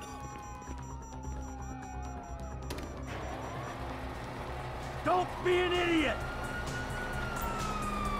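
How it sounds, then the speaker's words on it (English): Police sirens wail at a distance in Grand Theft Auto V, sweeping tones under a din of engines and crowd noise, while a voice shouts over them and brief mechanical squeals cut in. "Oh, fuck, you hear that? Sirens!"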